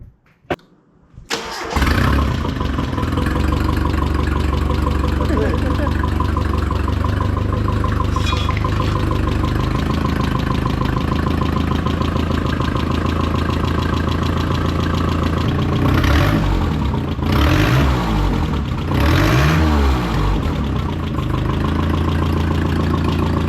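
A turbocharged KA24E car engine fires up for the first time after spark plug work, then settles into a loud, steady, slightly rough idle with a few revs rising and falling near the end.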